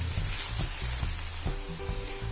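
Onions with garlic-ginger paste browning in a pan for kachnar chicken, giving a steady close sizzle with light stirring scrapes, loud and continuous without any voices.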